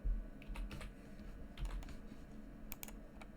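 Typing on a computer keyboard: a few scattered, soft keystrokes in small clusters, quiet and close, with no speech.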